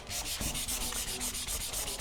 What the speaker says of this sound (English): We are going to buff it off gently with the DA